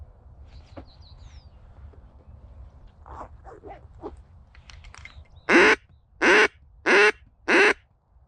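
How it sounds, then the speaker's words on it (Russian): Ducks over a bay during a hunt give four loud, evenly spaced quacks near the end, after softer scattered bird calls and faint chirps over a low outdoor rumble. "вон как утки летают"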